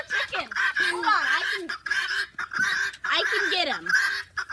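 A backyard chicken gives loud, agitated, squawking clucks at close range in bursts across several seconds, with brief gaps between calls.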